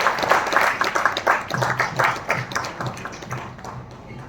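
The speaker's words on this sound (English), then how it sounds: "please applaud for our judges" An audience at a musical show applauds the judges steadily for a few seconds, a dense patter of many hands clapping that gradually thins and fades.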